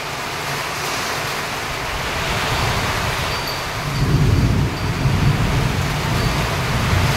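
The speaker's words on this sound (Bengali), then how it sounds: "কেমন বৃষ্টি হচ্ছে।" Heavy rain pours during a storm in a steady broadband roar, with a deep rumble of thunder swelling partway through and lingering under the downpour.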